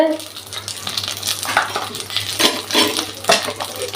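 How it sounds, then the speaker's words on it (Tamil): Small sago pearls roasting in a pan after raisins, stirred steadily with a spoon: continuous close scraping and rattling with light frying crackle, rhythmic strokes throughout. "நல்லா வறுத்துக்கோங்க பொரிய பொரியிற அளவுக்கு வறுக்கணுங்க"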